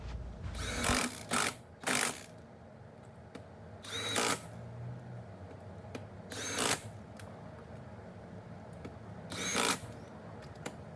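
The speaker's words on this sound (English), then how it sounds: "we are ready to start putting it in with our drill" A power drill drives the wheel spacer nuts onto a Jeep Wrangler JK in a star pattern, firing in several short, loud, whirring bursts separated by quiet gaps as each nut is tightened.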